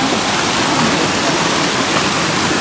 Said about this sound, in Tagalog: So ayan guys, nandito na kami sa falls.